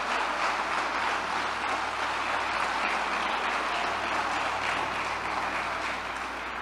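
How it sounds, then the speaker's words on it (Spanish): A church congregation applauds during a worship service, a dense, sustained roar of clapping that stays loud and even from start to finish. "dale el aplauso al Señor"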